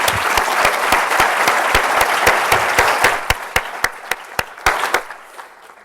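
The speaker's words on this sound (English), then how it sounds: "I want your help to help me give a big round of applause to all the volunteers" A crowd at a live-streamed event applauds the volunteers, steady clapping from many hands that thins toward the end into a few loud, sharp, separate claps before fading out.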